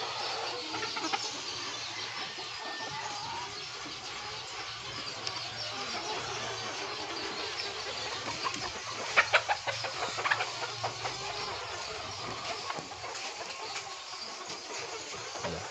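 Cockerels and laying hens in a poultry yard cluck at a distance over a constant background hum, with a small cluster of louder clucks midway.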